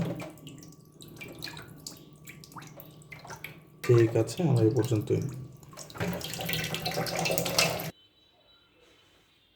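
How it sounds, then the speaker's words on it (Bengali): Water runs steadily from a tap, splashing into a sink while an aquarium is being cleaned, with people talking over it before it cuts off abruptly into near silence. "যে পানি কিন্তু আসতেছে"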